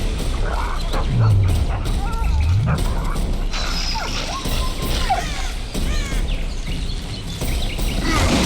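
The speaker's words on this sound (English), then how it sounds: "That's Grindley's dog." Grindley's dog barks and yips repeatedly in The Witcher 2, sharp close barks over a dense, rumbling ambient backdrop, with a few whimpering whines between.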